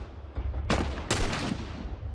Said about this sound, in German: Da kam nämlich gerade ein Schuss her.